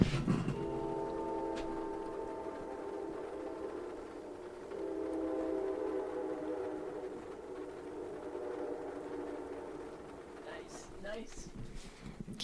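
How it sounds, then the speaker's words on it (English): A train rolls past outside an open window during a storm, its horn sounding in sustained tones as the rumble builds and fades, with a few sharp clicks near the end. "Here comes a train."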